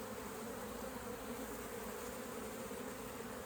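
Honey bees swarm at an open hive in a steady, dense drone of buzzing that fills the whole stretch without pause.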